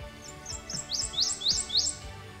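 A prothonotary warbler calls in a cypress swamp, giving a quick series of bright, sweet, upslurred chirps that repeat rhythmically and stand out clearly over soft background noise.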